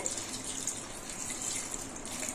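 Cool water poured over hot cooked pasta, a soft steady stream of running water that stays constant and fairly quiet throughout.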